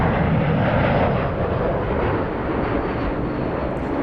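A Lufthansa Airbus A380 arriving at Los Angeles International Airport gives a loud, broad jet roar that holds steady and fades slightly as it passes, with no voices over it.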